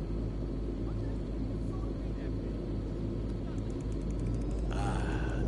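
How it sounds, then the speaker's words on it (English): A submarine engine in Hitman 3 drones low and steady, rumbling continuously, with muffled voices talking over it and a brief mechanical whirr near the end. "Sound of that engine running, smooth like a hummingbird"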